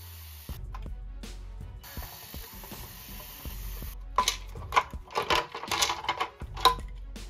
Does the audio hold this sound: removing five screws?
yes